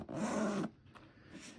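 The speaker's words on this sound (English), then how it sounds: "first pocket we're going to check out with a teeny tiny little zipper pull here" A teeny tiny zipper pull on a small pocket of a new travel backpack, drawn once in a quick close rasp lasting about half a second, followed by faint handling rustle.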